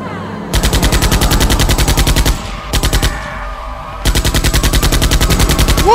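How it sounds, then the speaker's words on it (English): Rapid automatic gunfire from a zombie firefight in a mobile video game, loud and close, in two long sustained bursts and a shorter one between them, each a steady stream of sharp shots. "What a firefight!"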